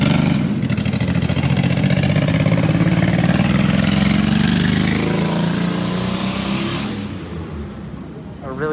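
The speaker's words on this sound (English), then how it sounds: "It's a really loud car." A loud car engine drones close by with a steady, powerful roar that rises slightly in pitch, then eases and fades toward the end.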